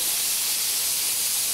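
A smashed burger searing on a hot griddle gives a loud, steady, hissing sizzle, close up and unbroken for a moment with no talking.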